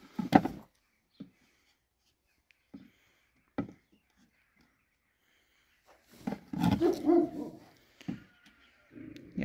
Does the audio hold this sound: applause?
no